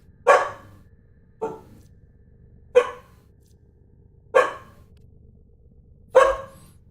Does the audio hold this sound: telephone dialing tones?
no